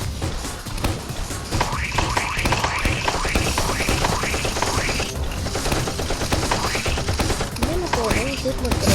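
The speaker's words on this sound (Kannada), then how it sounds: "ಏನಪ್ಪ ಶೂಟ್ ಮಾಡ್ತಾರೆ?" Rapid gunfire in a Roblox prison escape game: dense, loud, sustained bursts of shots over about nine seconds. A voice comes in briefly near the end.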